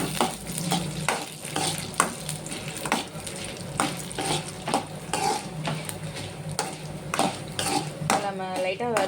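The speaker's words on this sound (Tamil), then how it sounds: "மிளகாய் போட்டுக்கலாம். லைட்டாக வதக்கிக்கலாம்." Green chilies sautéing lightly in oil in a pan for cabbage chutney, a steady close sizzle broken by repeated stirring scrapes and clinks of the utensil against the pan, continuing throughout with no talk.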